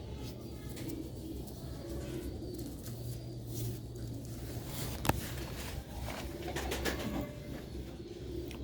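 Sialkoti rooftop-breed pigeons cooing softly in low, repeated throaty calls, fairly faint against a quiet outdoor background with a single sharp knock midway.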